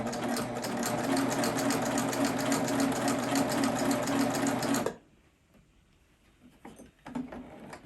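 Sewing machine stitching a tee shirt, a steady rapid run of needle strokes for about five seconds, then stopping abruptly, leaving quiet handling noises.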